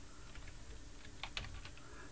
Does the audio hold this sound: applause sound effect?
no